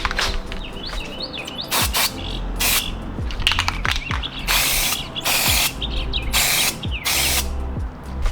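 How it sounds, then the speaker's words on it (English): Bursts of aluminum spray paint hiss onto engine parts for a 1994 Toyota Celica GT's 5S-FE engine. Several separate sprays come close and loud, mixed with rattling and clicking of the can and birds chirping in the background. "I'm just going to go ahead and spray it like that."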